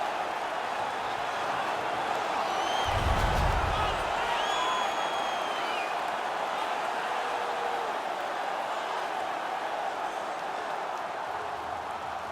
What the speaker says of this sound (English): Their man's won the fight. The crowd is ecstatic.